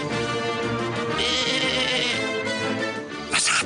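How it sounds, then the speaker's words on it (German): Cartoon sheep bleat over a busy music bed, their wavering calls fairly faint and partly blended into the background, with one louder cry near the end. "Was haben eigentlich eure Schafe?"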